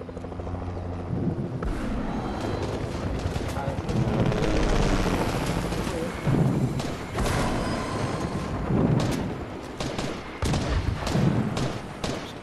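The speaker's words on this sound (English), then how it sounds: "Helicopter on me, helicopter on me, come back." A helicopter in an online shooter video game gives a steady, loud rotor roar through the whole stretch, with bursts of gunfire and thuds mixed in and players talking over it.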